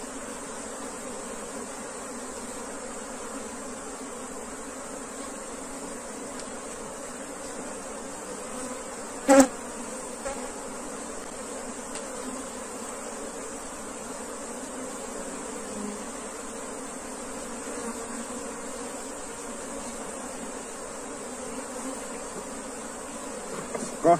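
Bee swarm humming steadily around a hive box, a continuous droning buzz at low level, with a brief sharp knock partway through and no talk.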